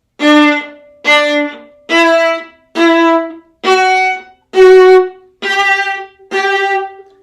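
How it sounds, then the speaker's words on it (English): A viola plays a rising scale of eight notes in accented quarter notes, each pair of beats sustained with a strong accented attack, clear and close. "when we play the scale with 2 quarter notes, each with an accent, it's going to sound like this"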